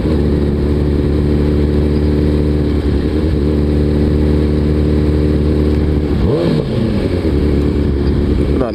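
Hayabusa liter-class motorcycle engine running steadily and close, a dense low drone that holds for several seconds before a short rev rise and dip near the end, with no talk.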